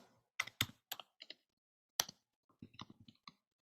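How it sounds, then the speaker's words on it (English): Someone types on a computer keyboard in short irregular bursts of crisp key clicks, close and clear with quiet gaps between strokes. "I am typing."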